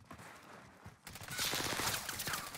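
Rapid bursts of weapon fire from a nail gun in Call of Duty Vanguard Warzone on Rebirth Island, starting after a quiet opening second and continuing as dense, loud repeated shots with no talk.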